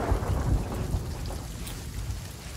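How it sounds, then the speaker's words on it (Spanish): Rain and thunder in the pirate video game Sea of Thieves: a steady wash of rainfall with low thunder rumbles near the start, moderately loud and fading slightly, with no talking. "Está lloviendo."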